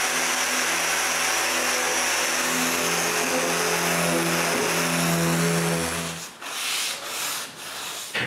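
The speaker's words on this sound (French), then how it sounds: "avant de sabler le fini bien lisse. J'utilise un grain de 220" A power sander working over a wood finish with 220 grit paper on a bathroom vanity, a loud steady whirring hum that runs for about six seconds and then cuts off, leaving a few faint knocks and quiet handling sounds.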